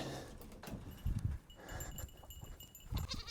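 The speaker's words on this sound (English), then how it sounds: "gotta let the goats out. They just might want to take a hike with me" Goats bleat a few times in short bursts amid rustling and shuffling hooves, fairly close, with quiet background noise between calls.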